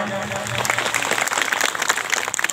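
An audience claps at a spiritual talk in Jharkhand, a moderately loud burst of scattered, uneven clapping lasting a couple of seconds with faint voices underneath.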